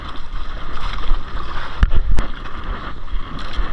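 Strong northeast monsoon wind and water current rush around a small fishing boat drifting with the flow at sea, a loud, steady broadband roar with a few sharp knocks midway.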